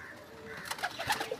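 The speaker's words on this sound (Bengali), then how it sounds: "এই যে হেনা চাচার খোপ, খাঁচায় যে কবুতরগুলো আছে এগুলো সব বিক্রির আছে" Madras pigeons kept for sale in a coop cooing nearby, soft low coos with a few sharper rustles and clicks toward the end, no speech.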